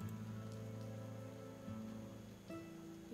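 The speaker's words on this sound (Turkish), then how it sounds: "Yağmur yağdığına göre" Soft, steady rain hiss from the farming tavern game Travellers Rest sits faintly beneath sustained tonal game music, with no talk over it.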